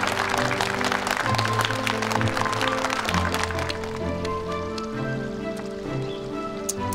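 Steady applause from an audience at a company awards ceremony as twelve outstanding employees come on stage, continuous and fairly loud, with music tones underneath.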